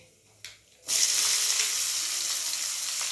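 Onion dropped into hot oil seasoned with cumin and asafoetida bursts into a loud, sudden sizzle after a quiet moment and a small clatter, then settles into a steady close frying hiss; no speech is heard.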